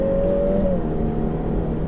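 A car engine hums and rises steadily as the vehicle accelerates, heard from close inside with a continuous droning tone.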